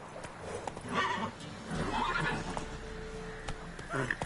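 Roach the horse neighs in The Witcher 3, two or three close whinnies with a snort over light hoof clip-clop, and a player's voice speaks briefly between them.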